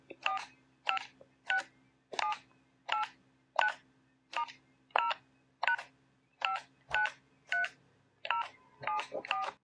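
Series of DTMF telephone keypad tones from a phone line interface with an MT8870 decoder, about fourteen evenly spaced dual-tone beeps in steady rhythm, clear and alone over a faint low hum.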